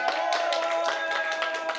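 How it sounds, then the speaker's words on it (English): Dense audience clapping at the Rise Awards 2020 ceremony, a steady wash of many hands kept up for the whole stretch, with sustained musical tones running underneath. "let's give a big round of applause to our media partners"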